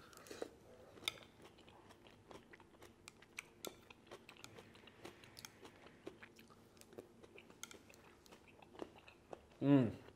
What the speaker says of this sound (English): You get a really nice crunch from the green veg.